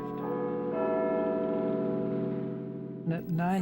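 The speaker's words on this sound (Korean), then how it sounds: "매일 밤 9시면 빅벤의 종소리가 울리고 9시 뉴스가 시작됐어요." Big Ben's clock bell in London chimes over wartime radio before the nine o'clock news, a single struck tone ringing with a long sustained hum before a brief voice cuts in at the end.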